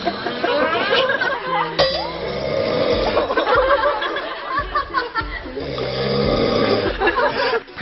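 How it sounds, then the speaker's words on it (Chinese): A male TV star snores while asleep, worn out from filming, with loud rasping rhythmic snores up close, mixed with nearby chuckles and laughter from onlookers. "拍摄过于劳累，睡得香甜，打几声呼噜无伤大雅"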